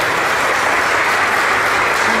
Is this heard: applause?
yes